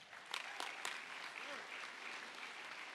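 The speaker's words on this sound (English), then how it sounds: "would you please give them a round of applause?" An audience at a finals event applauds as the finalists walk onto the stage, with steady, moderately distant clapping, a few louder claps at first, and a voice briefly heard under it.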